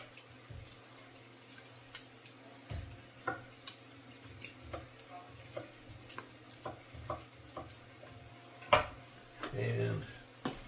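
Bacon frying in a pot for Manhattan clam chowder: a quiet, soft sizzle is punctuated by repeated scraping taps of a spoon stirring the pot, with a steady low hum and talking over it.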